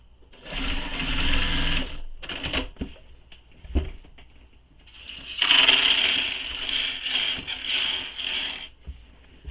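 A sewing machine back stitching a satchel runs in short mechanical bursts: a steady run, a few quick stops and clicks, then a longer, louder whirring pass with brief pauses.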